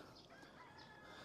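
Birds chirping and calling in a cherry blossom park in Korea, bright repeated calls over steady outdoor ambience, moderately faint and continuous with no talking.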